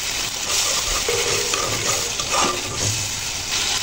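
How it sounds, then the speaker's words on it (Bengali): Spices for a taki fish curry with tomato and potato sautéing in a pan, a constant frying sizzle with repeated stirring scrapes and light clatter, close and uninterrupted. "সময় নিয়ে কষিয়ে নেব মশলাগুলো"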